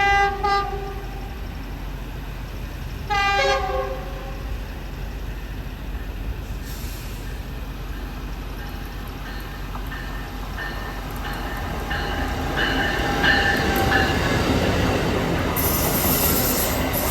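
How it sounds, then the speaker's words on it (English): An Acela train's horn sounds twice, then a long, rumbling passage of slowly rolling cars with squealing wheels, growing slightly louder toward the end. "why is this Acela traveling so slowly?"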